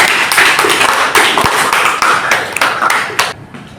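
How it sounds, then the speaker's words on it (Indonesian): Students in a classroom art lesson on illustration drawing burst into a dense round of clapping that stays close and lively, then stops abruptly near the end. "tentunya aplaus sekali lagi untuk kalian"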